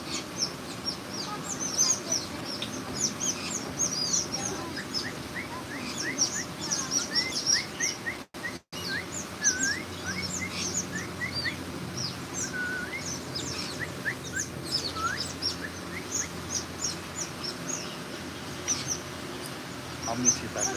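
Many birds chirp and tweet at once in a tropical aviary at Discovery Cove in Orlando, a dense, continuous chorus of quick high calls from close by. People speak now and then beneath the birdsong.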